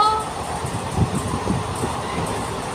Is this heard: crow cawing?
no